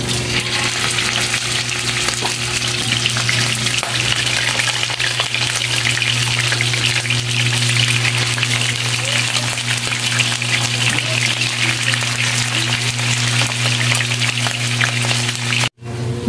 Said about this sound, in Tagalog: umpisahan na natin sa pagprito ang ating bangus.